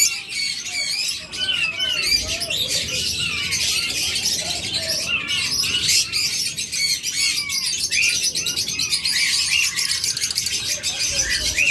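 Pet lovebirds, budgerigars and cockatiels in a bird shop chirp and squawk together, a dense, loud, continuous chorus of overlapping high calls with no pauses.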